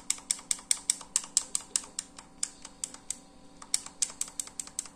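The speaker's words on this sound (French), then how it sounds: "les boutons, ils font, comme vous l'entendez, ils font quand même du bruit" Buttons on an SN03 game controller for Switch, PC, PS3 and Android click in rapid irregular bursts, sharp close taps repeating many times, fairly quiet with no voices.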